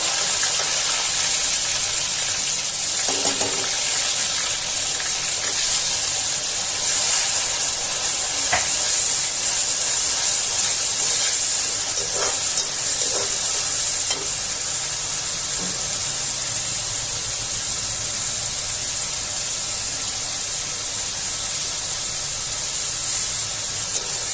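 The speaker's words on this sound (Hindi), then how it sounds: "अब इसको ब्राउन होने तक हम भूनेंगे पहले" Onion masala with fennel and coriander seeds fries in a pan, giving a loud, unbroken sizzling hiss that holds steady throughout, dotted with a few soft crackles.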